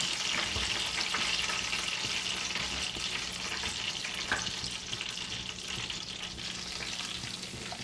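Breaded coxão mole beef steaks fry in hot oil, giving a dense, even crackling sizzle that holds steady throughout without any talk.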